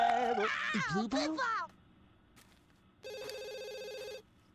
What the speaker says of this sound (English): let's just answer the phone, see who it is